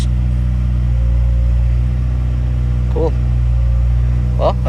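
A 2017 Subaru Impreza WRX engine running steadily as the car pulls away in first gear after a clutch replacement, a loud constant drone close up with a couple of brief higher whines near the end.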